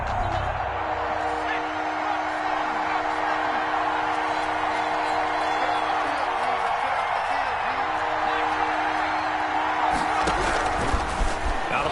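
Stadium crowd in an American football video game, a steady broad roar of cheering that swells slightly near the end, with a commentator talking over it throughout.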